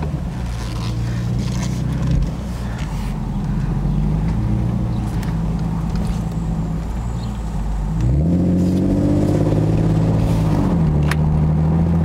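A 2009 Infiniti G37S with a seven-speed automatic, MXP exhaust, new B-pipes and Berk test pipes, droning steadily while driving, then revving up loudly with rising pitch that climbs and settles near the end.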